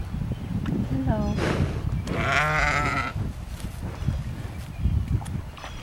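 Sheep bleat on a small farm, with two wavering cries rising out of steady outdoor noise while people talk nearby.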